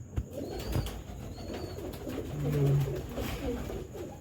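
Pigeons coo softly nearby in a few low, throaty calls, with one fuller coo in the middle, over faint background noise.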